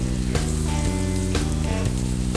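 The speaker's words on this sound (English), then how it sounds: "Put all our carrots, onions, potatoes in and give it a stir fry." Carrots, onions and potatoes sizzle loudly in a hot pan, with a steady frying hiss broken by periodic stirring scrapes and clatters, no voices.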